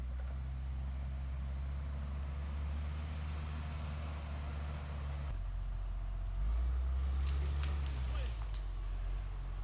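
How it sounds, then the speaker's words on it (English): Heavy timber skidder working a Texas pine logging site, dragging a felled tree out: a steady loud diesel engine drone with low rumble that swells and shifts midway, continuous throughout. "Yes, I'm skidding the tree out of here. This is a skidder."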